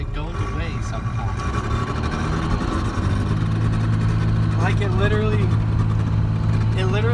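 A 12-valve Cummins diesel truck runs with a steady low engine drone and an odd rattling noise from the frame, while people talk over it close by.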